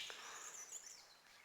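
Birds sing and chirp among trees beside a river stream in the Bonifa Valley, thin high calls running faintly and steadily through the short stretch with a soft background wash.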